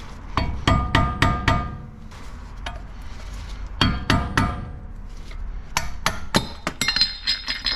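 Metal screwdriver prying at a front suspension bushing on a Toyota 90 Series Prado, giving sharp metallic clinks and taps in clustered bursts of four or five strikes, close and fairly loud, with no talk.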